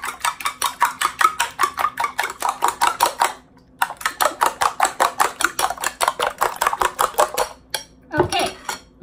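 Rhythmic, rapid clinking of a utensil against a bowl as eggplant is mixed with egg, fish sauce and salt for a Lao dish, steady strokes with a brief pause and a final scrape.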